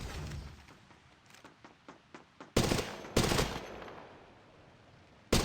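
Gunfire in the mobile battle royale game Apex Legends Mobile: a string of sharp single shots gives way to two loud heavy blasts with ringing tails and a final burst at the end, with no voices.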